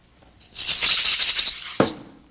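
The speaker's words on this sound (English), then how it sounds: "the maracas" Maracas are shaken in a dense, hissy burst of rattling beads lasting over a second, ending with a sharper accent, heard alone and up close.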